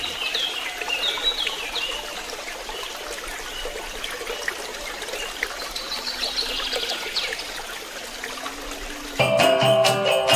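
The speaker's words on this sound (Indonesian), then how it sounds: "suara air mengalir," Water flows in a steady, even trickle with faint birdsong above it, holding at moderate loudness before an abrupt change to a brighter, busier texture near the end.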